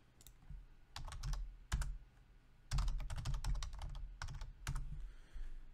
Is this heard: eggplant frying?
no